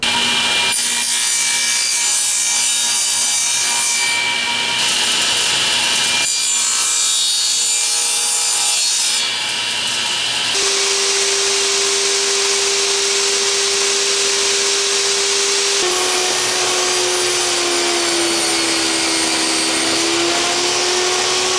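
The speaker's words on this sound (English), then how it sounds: "just the saw running and then feeding a piece of wood through" A Delta 36-725 table saw whines loudly and continuously, its pitch and texture shifting as wood feeds through the blade in a harsh, grinding cut.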